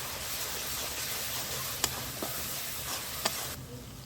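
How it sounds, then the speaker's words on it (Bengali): Spice paste of masala and chili paste sizzles steadily in a hot pan while a jackfruit dish is cooked, a constant close hiss broken by a few soft stirring clicks. "হালকা আছে মশলাটা ভেজে নেব"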